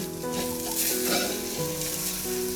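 Spiced dal (roasted dal curry) fries in a pan on the stove, sizzling close and strongly, with stirring scrapes over a low humming tone.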